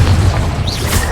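A Confringo explosive spell goes off in Hogwarts Legacy, a loud, sustained booming blast with heavy low rumble and crackling debris that continues for about a second amid other game sounds.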